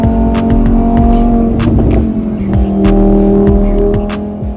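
A tuned Lamborghini Huracan Evo with a Capristo exhaust roars loud and close, its steady engine drone broken by sharp repeated blips and revs.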